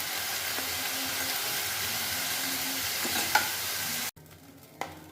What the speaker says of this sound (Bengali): তো একটু ফ্লেমটা বাড়িয়ে দিয়ে এরকমভাবে আমি নাড়াচাড়া করে নেব, তারপর নামিয়ে দেব